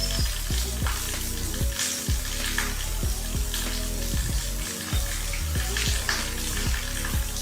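A spatula stirs an okra stir-fry in a pan with garam masala and salt, a steady sizzle beneath repeated scraping strokes in an even rhythm, loud and close.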